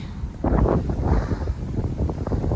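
Gusty wind roars across the microphone at the Manchanabele Dam viewpoint, starting softer and surging loud after a moment, then rumbling on unevenly until the end.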